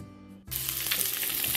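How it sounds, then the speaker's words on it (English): Sliced Spam sizzles steadily in a hot frying pan, a soft, bright crackling hiss that starts abruptly and continues evenly, close but fairly quiet. "we have Spam sliced up and frying up in the frying pan."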